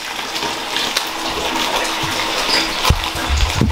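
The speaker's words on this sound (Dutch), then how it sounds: "Het water wordt al gevuld." A bathtub fills from the tap ahead of a Lush Jingle Bells bath bomb, giving a steady close rush of running water, with a few louder splashes and knocks near the end and no voices.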